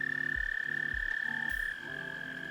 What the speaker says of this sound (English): it's all of the frogs floating around in my water feature here.